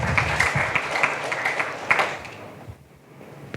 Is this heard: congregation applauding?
yes